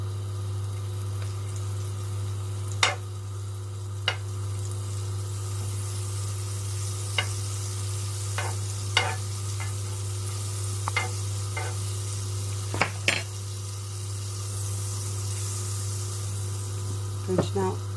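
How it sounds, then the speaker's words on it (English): Butter melts in a pan for a breakfast egg and cheese wrap, a faint steady sizzle beneath a constant low hum, broken by occasional sharp clicks and taps of utensils. "I'm going to add some butter"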